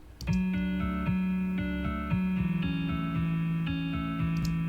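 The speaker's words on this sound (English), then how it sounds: "And then I also added this guitar pattern, two of them." A repeating electronic guitar pattern with bright, plucked synthetic notes in a steady rhythmic loop, played alone and fairly loud.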